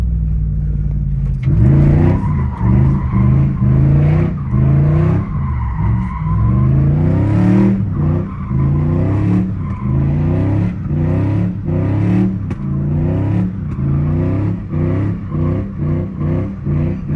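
Tires skid and squeal during street drifting with cars such as an E36 M3, F82 M4, Corvettes, BRZ/FRS, 350Z and A90 Supra, a loud, near engine droning and revving steadily beneath repeated screeching slides for the whole stretch.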